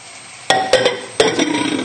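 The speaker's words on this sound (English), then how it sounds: "And then just stir in the parsley." Parsley stirred through a mustard sauce in a hot pan, a few sharp scraping strokes of a utensil over a steady close sizzle, with the odd light clink against the pan.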